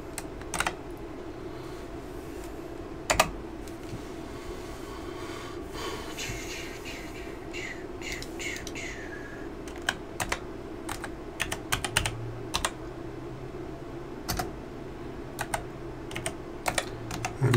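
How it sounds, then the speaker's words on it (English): Scattered clicks of slow typing on a computer keyboard pushed up against a wall, irregular keystrokes with long gaps over a low constant hum, with some breathing audible nearby. "Typing super slow because my keyboard is up against the wall."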